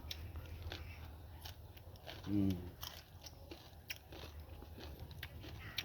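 Close, crunchy biting and chewing of fresh beans picked from a home garden, eaten with rice, with one louder crisp bite standing out against a constant low background hum.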